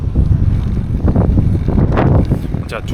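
Strong wind roars and buffets the microphone in a continuous low rush, with a voice briefly speaking underneath, outdoors on a road ride in Denmark.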